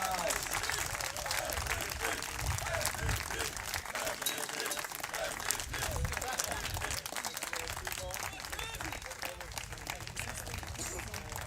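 An audience applauds the tournament MVP at a baseball award ceremony for the European Federation Cup, steady sustained clapping from a crowd with an announcer's voice over it.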